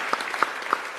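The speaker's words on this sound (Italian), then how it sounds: "l'applauso è proprio per voi" A theatre audience applauds during an Italian sports talk show recorded at a summer training camp in Dimaro, with a thin bed of clapping punctuated by a few sharper, closer claps at a slow uneven pace.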